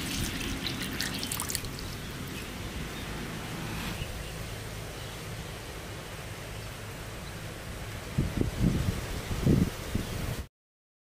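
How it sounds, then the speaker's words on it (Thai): Water poured over an Olight i3E EOS flashlight rated IPX8, a steady trickling splash running throughout with a few louder dribbling bursts near the end, no talking. "แม้จะเทน้ำหรือว่าจุ่มน้ำลงไปนะครับเขาก็ยังเปิดใช้งานได้แบบสบายๆ"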